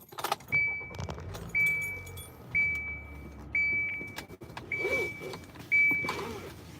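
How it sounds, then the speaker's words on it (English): Keys jangle as a car is switched on, then a high electronic chime repeats at a steady pace inside the car, fairly close and clear. "I'm going to turn the car on so my phone doesn't die."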